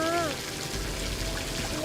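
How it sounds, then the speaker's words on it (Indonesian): Heavy rain pours down in a steady, fairly faint hiss that continues throughout, with a voice speaking briefly near the start. "Ini hujannya masih besar banget."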